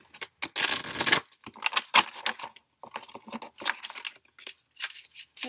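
Tarot cards being shuffled by hand, with dense papery riffles and crinkling bursts in an irregular rhythm, close and fairly quiet with brief pauses between.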